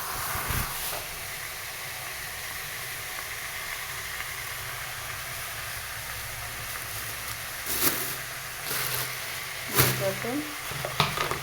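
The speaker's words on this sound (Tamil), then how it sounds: "வரமிளகா நீங்கள் எண்ணெயில் வதக்கி சேர்த்துக்கலாம்." Dried red chillies frying in hot oil give a steady, close sizzle and hiss throughout, broken late by a few sharp clatters and stirring knocks from the pan.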